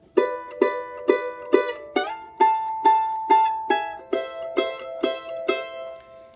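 A charango plucks a steady run of bright, ringing notes from the Virgenes del Sol melody, about a dozen evenly spaced strums and plucks, each decaying quickly, played alone and close.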